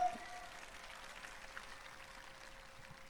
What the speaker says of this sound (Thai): เสียงปรบมือดังๆ ด้วยครับ